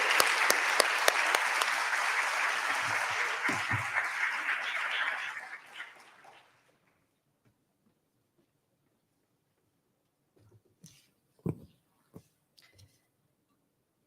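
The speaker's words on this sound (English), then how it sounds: "Please, a round of applause." An audience at an international forestry students' gathering in Chile gives sustained applause for about six seconds, then it fades to silence, with a few scattered taps and knocks afterward.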